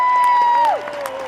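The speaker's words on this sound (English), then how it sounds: "Give her another round of applause." A crowd at an outdoor rally in Hart Plaza applauding and cheering, heard faintly under a loud sustained sung or shouted note that drops off partway through.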